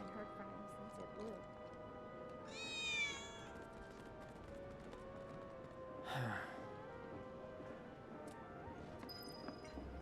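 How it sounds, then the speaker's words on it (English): A cat meows twice in the slums of Final Fantasy VII Remake, one drawn-out call and then a shorter one, faint over a steady game ambience and background music. "I think one of Betty's cats might be nearby."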